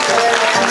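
Brief, loud burst of audience applause at a school freshman ball, a dense, continuous roar of clapping hands and crowd noise.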